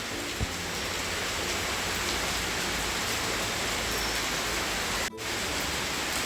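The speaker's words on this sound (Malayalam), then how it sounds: "ഇവിടെ മഴ തകർത്ത് പെയ്യുക." Heavy rain pours outside in a continuous, even hiss that fills the whole stretch, with a brief dropout near the end and no talking.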